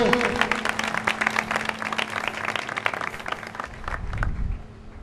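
An audience applauds a speaker being introduced for a religious talk about Mother Mary, steady dense clapping that swells and thins over several seconds, with a voice briefly audible near the end.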